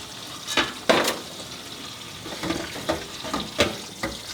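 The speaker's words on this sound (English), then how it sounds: "And then run some cold water on it." Cold tap water running over drained macaroni in a kitchen sink, a soft steady splash broken by several sharper splashy bursts, close and fairly quiet with no talk.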